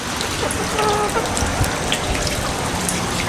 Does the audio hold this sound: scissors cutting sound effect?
no